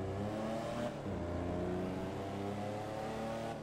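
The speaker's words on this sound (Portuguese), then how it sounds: "ó o ronco, ó o ronco" A car engine roars steadily in GTA V while the player drives a boxy Gol down a road. The hum is continuous and moderately loud, with a slight shift in pitch partway through, and no voices are heard.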